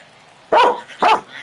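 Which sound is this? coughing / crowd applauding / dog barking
dog barking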